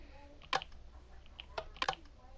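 Minecraft note block playing its clicking sticks sound, a few quiet sharp wooden clicks in a short irregular group over a faint background hiss.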